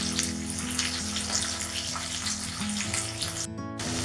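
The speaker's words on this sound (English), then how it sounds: "Add 1/2 teaspoon of black pepper. Add a little of sugar. And just saute them." Chilli potatoes sautéing with salt, black pepper and sugar over a high flame, a steady moderate frying hiss that sounds close to running water, with a brief dropout near the end.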